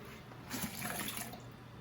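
Cranberry makgeolli, a Korean rice wine, poured out of a jar in a home kitchen, giving a short steady liquid splash and gurgle with a slight surge midway, close and moderately quiet.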